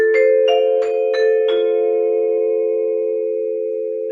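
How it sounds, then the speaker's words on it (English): Vibraphone bars struck with the pedal down and dampener released, five quick mallet hits whose tones blend and ring on, sustaining and slowly fading for several seconds. "when I push the pedal down,"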